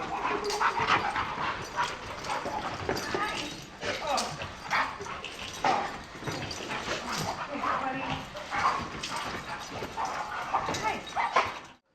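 Pit bulls barking, yipping and whimpering excitedly at close range, the sounds coming in rapid bursts while people talk over them.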